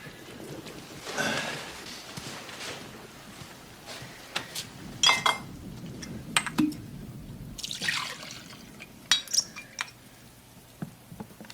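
Whiskey poured into a glass with no ice, heard as soft liquid trickles and drips mixed with scattered glassy clinks and taps over about eleven seconds in a quiet room.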